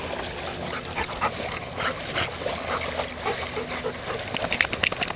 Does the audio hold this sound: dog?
yes